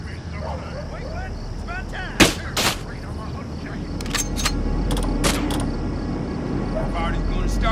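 Several sharp gunshots crack out in the video game Manhunt 2 over a steady background rumble, two close together and then a quicker cluster, with a voice talking throughout.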